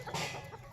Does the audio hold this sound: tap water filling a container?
no